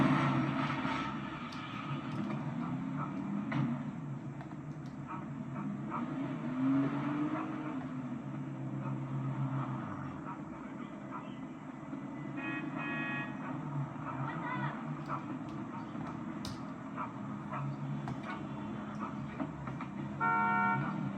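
Car driving through GTA 5 city streets, a steady engine drone with game ambience and a brief horn-like toot, continuous and moderately loud throughout.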